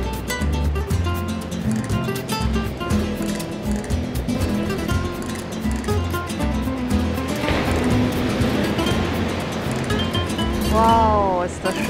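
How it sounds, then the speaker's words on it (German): Waves wash and slap against the rocky coast of a small seaside village near Güímar on Tenerife, a continuous near surf with some background noise and a voice briefly heard. "ich liebe dieses Geräusch, dieses Klatschen der Wellen"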